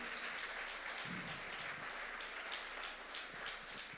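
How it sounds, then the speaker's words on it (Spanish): A church congregation applauds loudly for the Lord during a Sunday family-day service: dense, steady clapping that holds for several seconds, with no voices above it. "denle un aplauso fuerte al Señor en esta mañana."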